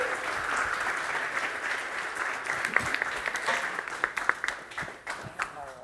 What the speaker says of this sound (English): One more round of applause, please, ladies and gentlemen.